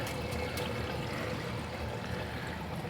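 Water pours steadily through a constant-flow gravel bed in an indoor aquaponics setup with goldfish, a continuous, fairly quiet trickling wash with no talking.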